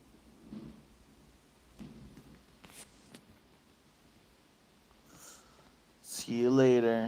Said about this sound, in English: the storm seems to be going the opposite way now